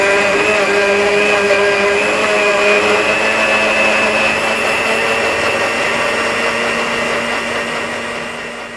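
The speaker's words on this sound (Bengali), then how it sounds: "আমরা এটা একটু ব্লেন্ড করে নেব।" An electric blender whirs steadily as it purees pear, a loud, continuous motor drone that holds for several seconds and eases off slightly at the end.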